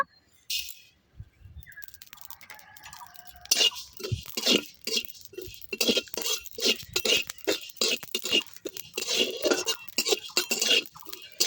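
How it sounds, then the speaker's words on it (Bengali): Whole cumin and panch phoron dry-roast in a dry wok for a shukto spice mix. Sharp scraping and rattling of a spatula against the metal comes in uneven bursts after a quiet start. "গোটা জিরে আর পাঁচ ফোড়ন এই দুটোকে আমি শুকনো কড়াই ভেজে নেব"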